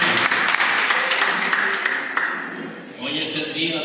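A church congregation breaks into applause during a Sunday morning service, a sustained wash of clapping that gradually fades out, with voices talking over it near the end.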